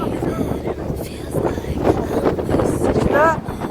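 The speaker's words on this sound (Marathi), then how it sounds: "एवढं प्रभाव जास्त आहे वाऱ्याचा." Strong wind roars and buffets the microphone in gusts at Siddhoba Temple near a ropeway, loud and continuous, with a faint voice briefly audible.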